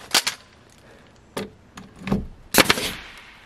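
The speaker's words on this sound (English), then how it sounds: "Take my nail gun." A nail gun drives nails into board and batten siding with about five sharp, loud pops in irregular bursts, including a quick double hit, with short pauses between them.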